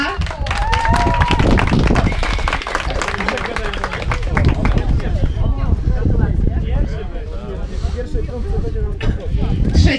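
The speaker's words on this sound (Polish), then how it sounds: "Brawa!" A crowd at a motocross award ceremony claps and cheers for a placed rider, loud rattling applause mixed with babble and voices, sustained and close throughout.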